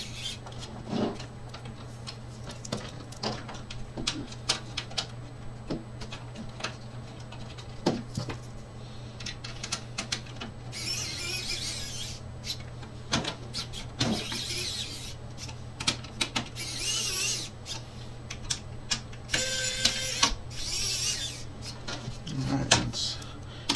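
Screws being hand-tightened into a CoolerMaster Q300L V2 computer case while fitting a power supply, giving scattered close clicks, ticks and rubbing metal sounds with brief louder scrapes and rattles.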